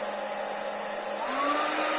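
A Heifer hair dryer runs steadily on its medium setting, a continuous close whooshing airflow with a whining motor tone that shifts slightly in pitch partway through.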